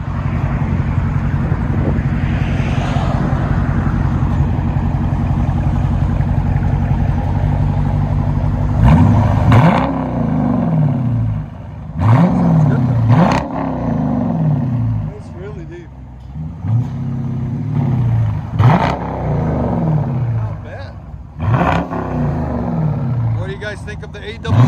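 A 2020 Dodge Charger R/T with a 5.7L HEMI V8 and AWE cat-back dual exhaust idles with a deep, steady rumble, then several sharp revs rise and fall in repeated bursts, loud and close.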